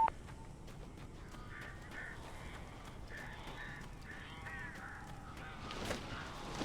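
Crows caw repeatedly in a dark, atmospheric Alan Wake game scene, with a series of short harsh calls in the middle distance over a low rumbling ambience, then a louder burst near the end.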